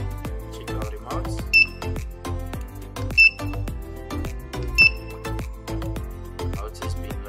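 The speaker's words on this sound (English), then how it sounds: "Your long beep to confirm that it's out of programming." Confirmation beeps from a Sherlotronics single-channel remote control receiver leaving programming mode, three short clear tones spaced about 1.6 seconds apart over steady background music.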